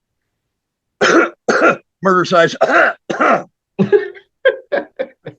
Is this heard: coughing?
yes